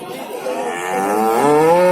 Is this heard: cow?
yes